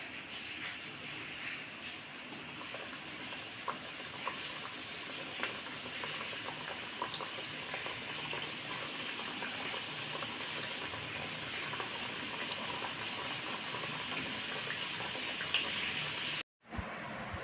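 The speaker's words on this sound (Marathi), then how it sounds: "आणि राहिलेल्या कापण्या पण आपण तळून घेऊया." Wheat flour kapanya, small cut pieces of dough, frying in hot oil, a continuous fine bubbling crackle at moderate level, broken by one abrupt gap near the end.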